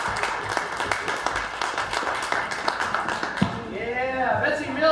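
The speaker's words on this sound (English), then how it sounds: "Keep clapping, keep clapping." Audience clapping at a comedy show, a rapid patter of hands under a speaking voice and audible chatter, tapering off as the talking grows more prominent near the end.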